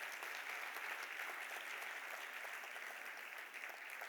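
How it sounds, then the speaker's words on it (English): Steady applause from an audience at a South Asian media and advertising awards ceremony, honouring the winners; dense, even clapping fills the whole stretch at a moderate distance with no voices over it. "may we please have a round of applause for the winners."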